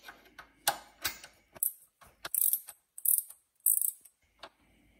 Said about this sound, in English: Then tighten the screws.